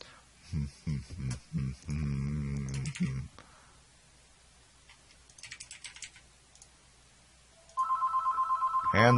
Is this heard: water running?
no